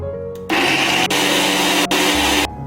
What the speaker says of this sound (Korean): 그리고 믹서기로 함께 갈아주세요.